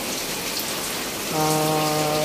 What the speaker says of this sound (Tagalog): Pero kaninang umaga talaga grabe ang ulan hanggang so ngayon malakas pa rin